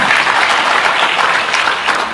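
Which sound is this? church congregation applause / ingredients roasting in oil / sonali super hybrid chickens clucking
church congregation applause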